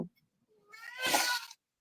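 A pet cat lets out a single drawn-out meow, fairly close and clear, after a brief faint noise at the start, with no talking over it.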